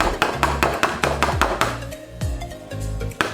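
Sharp, close knocks on a hard HPL laminate sheet, struck in quick uneven bursts with brief pauses between them, each hit ringing slightly before it dies away.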